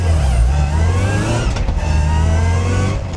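A supercharged Mini Traveller's engine runs loud and close in a steady, droning tone, with a slight dip and swell in the middle but no real change in pitch.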